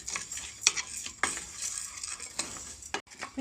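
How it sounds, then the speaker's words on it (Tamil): Red raw rice is dry-roasted in a pan, quiet scraping and rustling grains stirred in short, irregular strokes with a few sharper clinks. "அரிசியை வறுக்க போகிறேன். சிகப்பு பச்சரிசி."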